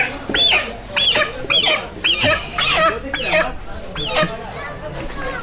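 A chicken tied with a rope squawks and clucks loudly and close, in a rapid series of sharp, repeated calls with short pauses between them.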